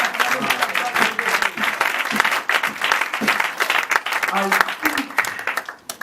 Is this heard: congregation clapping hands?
yes